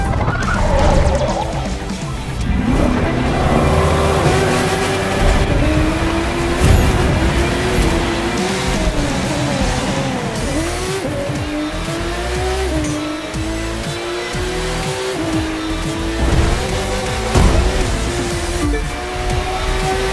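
Race cars tear through the streets of New York in the video game The Crew 2, their engines loud and revving constantly, tires squealing and pitches rising and falling as cars accelerate and shift, with brief crash-like bangs and no talking.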